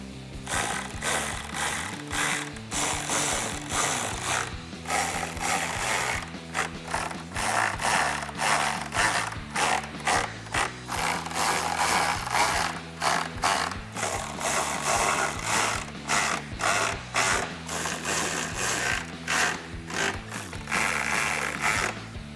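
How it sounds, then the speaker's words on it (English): A ratchet with a 13mm socket clicks rapidly and steadily while tightening the tire carrier bolts on a 2021-2022 Ford Bronco tailgate reinforcement mount, loud and close with brief pauses between runs of ratcheting. "Grab your 13mm socket once again, and we can tighten our tire carrier bolts."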